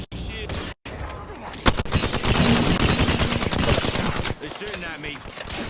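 Rapid automatic gunfire from enemies in a shooter game, a dense, loud crackle of bursts that runs almost nonstop with impacts mixed in, with a player's voice talking over it.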